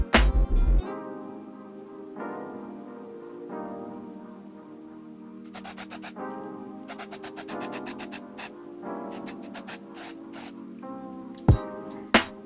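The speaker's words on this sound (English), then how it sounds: "using this lace tint spray from Kiss in the shade dark brown" Kiss lace tint spray in dark brown is sprayed onto wig lace in a series of short, sharp hissing bursts, some in quick clusters, over quiet background music, with no talking.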